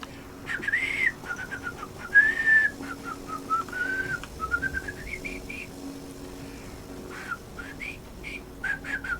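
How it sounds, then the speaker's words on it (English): A person whistles a halting, wobbly tune through the lips, made of many short rising and falling notes with gaps between phrases, fairly soft and close, with no speech. "I can't whistle very well today, either. Usually I can whistle better than that."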